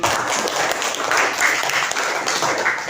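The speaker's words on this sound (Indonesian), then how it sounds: "Oke, tepuk tangan lagi." An audience claps steadily at an educational session on computational thinking and coding, a dense, even burst of applause lasting a few seconds with no speech over it.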